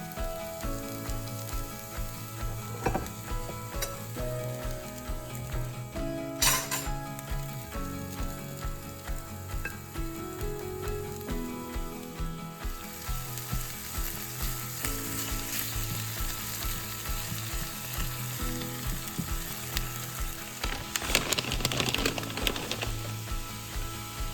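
Leftover steak and chopped peppers fry in a little oil, giving a continuous sizzle with occasional scraping and clatter from the pan, sharper bursts near the middle and the end, close and steady without speech.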